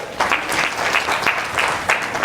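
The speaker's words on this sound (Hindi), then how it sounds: "मनीषा जी के लिए जोरदार तालियां।" An audience at a Teachers Day presentation session gives a short, hearty burst of applause, a close, pulsing round of clapping from a roomful of people lasting a couple of seconds.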